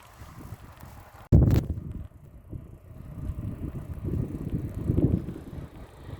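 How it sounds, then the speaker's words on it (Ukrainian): A repaired bicycle ridden home along countryside paths, with a rolling rumble of tyres and rattles, a sharp jolt near the start, and wind buffeting the microphone throughout. "полагодив велосипед і зараз вертаюся додому стежками Івана Яковича Франка"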